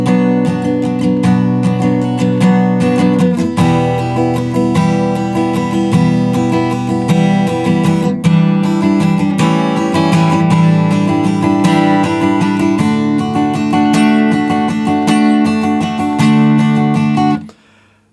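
A guitar strums the chorus chords of a song, a full, loud run of chords that changes every few seconds for about seventeen seconds before cutting off abruptly, played alone with no voices.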